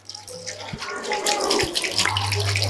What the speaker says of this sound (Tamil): இப்படி செக்கில் ஆட்டின தேங்காய் ஒரு அஞ்சு லிட்டர் ஊற்றலாம்